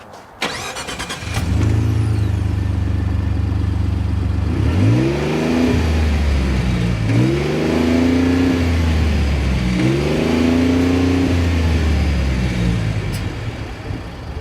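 A 2015 Lincoln Navigator with a 3.5-liter EcoBoost engine tows a trailer up a long, steep grade at high altitude. The engine starts, then drones loudly and steadily, with repeated rising surges as it accelerates through gear changes.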